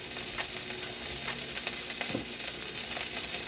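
A small splash of oil sizzles steadily in a hot pan while tom yam seafood pasta is cooked, a constant bright hiss with faint clicks of stirring, no voices.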